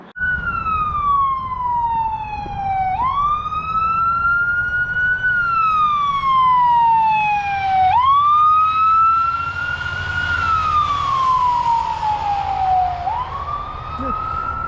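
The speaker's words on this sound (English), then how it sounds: "That was a fire truck going on." A fire truck siren on a Calgary street wails loudly and steadily, its pitch sweeping slowly up and down in long repeated cycles as the truck passes close by.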